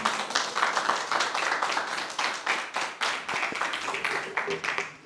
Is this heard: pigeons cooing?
no